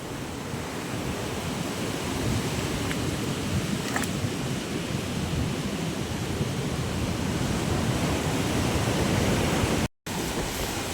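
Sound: sea waves flooding a beach hut

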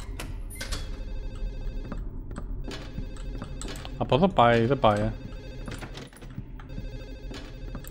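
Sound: telephone ringing in video game Silent Hill 4

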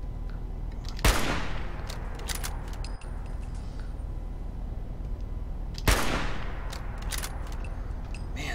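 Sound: gunfire shooting at an enemy in video game Fallout 4

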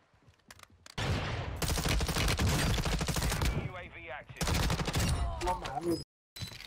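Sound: gunfire in Warzone 2 video game

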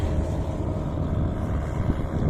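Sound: small tractor driving past

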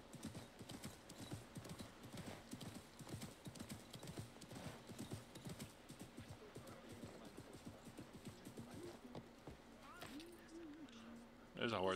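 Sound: horse hooves clip-clopping in Assassin's Creed Mirage video game

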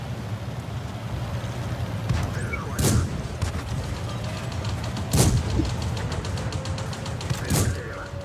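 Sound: tank cannon shots in World of Tanks video game

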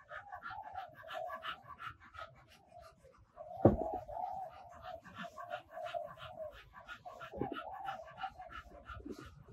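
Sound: dog panting heavily

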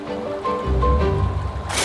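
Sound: water flowing in a hillside irrigation canal

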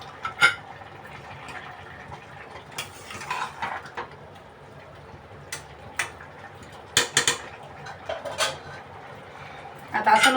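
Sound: lid placed on a cooking pot

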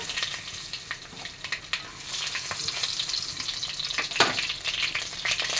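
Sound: mustard seeds and dried red chillies frying in oil in a kadai

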